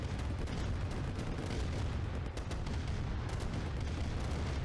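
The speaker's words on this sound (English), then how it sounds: "It looks like Doc's losing the first tank battle." Tank battle in Command & Conquer: Red Alert Remastered, with dense, continuous cannon fire and explosions, a steady loud rumbling barrage with rapid overlapping booms and no pauses.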